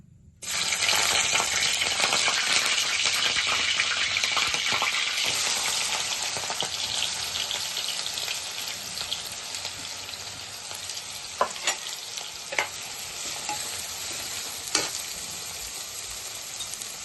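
Chopped onions and green chillies hit hot oil in a kadai for a prawn and chana dal curry, a loud, steady sizzle with clicks of stirring that slowly eases off, with no talk.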